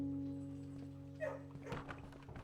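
A dog in the kennel of the video game Blue Prince, a few soft whimpers and yips midway over a steady low background hum, faint and close.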